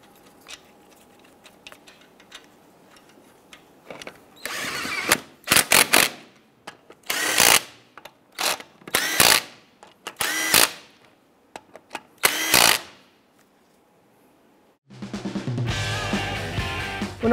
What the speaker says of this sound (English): I'm going to install our lug nuts. Once we have all these on, we're going to go ahead and snug those down.